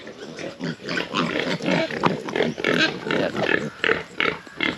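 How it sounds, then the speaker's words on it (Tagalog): Piglets in a free-range pen grunt and squeal steadily while feeding, a dense, busy chorus of close-up snorts and chewing noises running continuously without pause. "Ito rin kumakain na ito mga biik."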